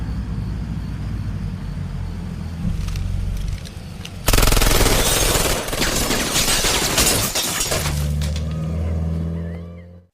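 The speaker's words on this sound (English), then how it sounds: "suddenly the spiders strafe Kowalt's house with guns" Loud, sustained machine gun fire strafes a house in a film scene, a dense rattling fusillade over a low rumble, swelling sharply partway through and fading out at the end, with no speech.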